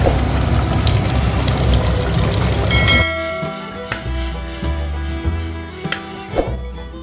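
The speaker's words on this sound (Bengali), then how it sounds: "জলটা ফুটে গেছে, এখন মাংসটা ওর ভেতর দিয়ে দেবো।" Mutton pieces drop into boiling water in a pressure cooker, a few seconds of loud bubbling splash and pouring followed by quieter clinks and soft knocks of the pot.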